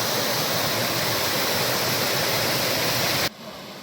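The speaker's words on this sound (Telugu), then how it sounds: "ఈ ప్రదేశంలో మనకు వాటర్ ఫాల్స్ కూడా ఉంది." A waterfall near a rock cave pours as a loud, dense, steady roar of rushing water, heard alone before it cuts off abruptly near the end.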